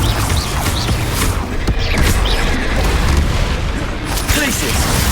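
Rapid Glacius and Confringo spells cast in Hogwarts Legacy, a dense, continuous barrage of booming bursts and icy crackles under steady game noise, with a voice repeatedly shouting spell names.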